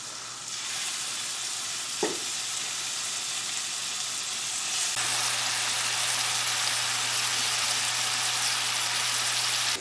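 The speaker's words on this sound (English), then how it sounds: "So I'm just gonna put this meat in my skillet." Beef sizzles in a skillet with butter, a close, steady frying crackle with a short clink of a utensil early on and a low hum joining midway.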